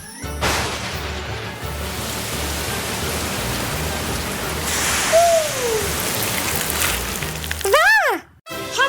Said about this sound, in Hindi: बारिश आ जाओ।